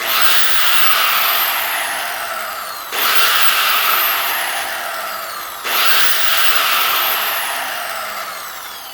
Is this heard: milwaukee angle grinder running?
yes